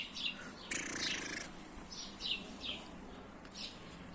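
Pigeons of a Mardin tumbler breed chirp in short, repeated bursts close by in a breeding coop, with a soft rustle of movement and no talking.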